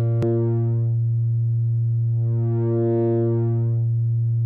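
A Flamingo synth module producing a CV-controlled sine wave with its focus control engaged, a steady sustained tone rich in stepped harmonics that brighten and swell midway, after a brief click at the start.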